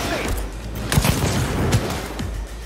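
Grenade explosions and gunfire in the video game Cyberpunk 2077, a run of booming blasts and rattling shots layered over game noise, loud and close.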